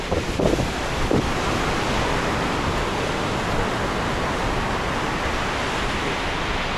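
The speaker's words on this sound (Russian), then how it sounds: "Ветер еще возле моря." Strong wind buffeting the microphone over a continuous roar of crashing surf on a stormy beach in Alanya, Turkey, loud and steady throughout with no voices.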